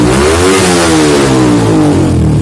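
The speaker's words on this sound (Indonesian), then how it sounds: "ini motor standar loh guys, tapi raungannya mantep ya guys" Loud engine of a modified Yamaha Vixion Advance motorcycle, stock engine with an aftermarket ECU, revving hard, the pitch rising sharply then sliding back down in one continuous close roar.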